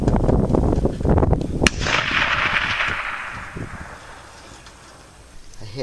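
A Winchester 94 rifle fires one sharp, loud shot from a log rest at a 250-yard target outdoors in a snowstorm. A fading echoing tail follows over windy background noise.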